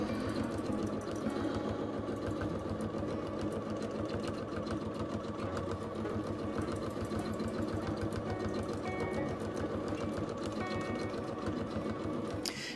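Domestic sewing machine running steadily through free motion quilting of feather border designs, a continuous fast whirring and needle clatter that stays loud and even throughout.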